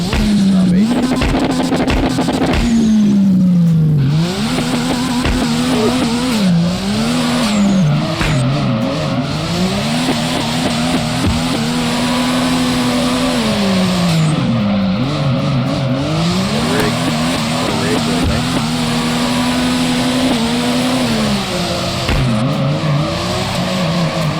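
Cars drifting in the DriftCE video game, engines revving and wailing up and down in pitch with loud sustained tire squeal throughout, continuous and close with no talking.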